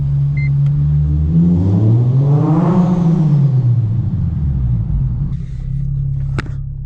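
A modified Honda Civic pulls hard through a parking garage: the engine note climbs steadily to a peak, then falls away as the revs drop, echoing off concrete, with a sharp knock just before the end.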